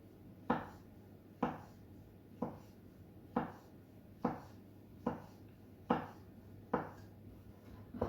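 A sharp knife slices through food on a cutting board while preparing herb-crumbed schnitzel, producing eight evenly spaced crisp chops about every 0.75 seconds, close and clear over a low steady hum.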